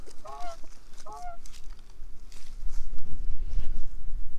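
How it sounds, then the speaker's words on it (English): Outdoors among chickens, a goose gives two loud, close honks in quick succession, followed by low rumbling wind noise. "What a silly goose."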